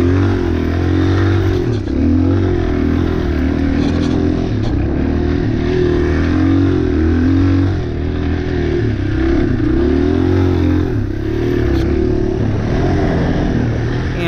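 A 2006 Yamaha XT motorcycle engine lugs steadily at low revs, a deep loud rumble with slight rises and falls in pitch, continuous throughout.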